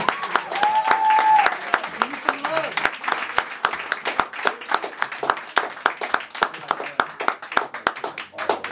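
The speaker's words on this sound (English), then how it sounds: "Clap it up and welcome to the stage, Eric Alter." Audience at a book launch poetry reading at the Brooklyn Paramount applauds a guest poet onto the stage, a loud burst of clapping that thins to scattered individual claps, with a cheer near the start.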